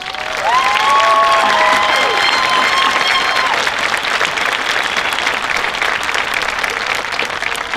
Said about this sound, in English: We owe them a round of applause.